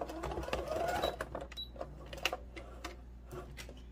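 A sewing machine back stitching over the starting point of a seam on a stuffed moose, its motor running in a steady whir with clicking needle strokes, close by and fairly quiet, then pausing to near silence.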